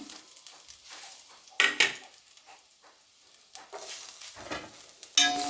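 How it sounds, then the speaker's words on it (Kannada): Chopped onion and garlic cooking in hot oil for a chicken curry, heard as a soft sizzle broken by a few sharp bursts of stirring and scraping against the pan, close up and without speech. "ಚೆನ್ನಾಗಿ ಬಾಡಿಸ್ಕೋಬೇಕು. ತುಂಬ ಕೆಂಪಾಗಬೇಕಂತ ಏನಿಲ್ಲ, ಸ್ವಲ್ಪ ಸಾಫ್ಟ್ ಆದರೆ ಸಾಕು ಈರುಳ್ಳಿ"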